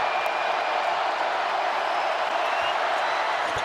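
Basketball arena crowd of thousands groaning together after a made free throw: a loud, steady, broad wash of massed voices that holds without breaks.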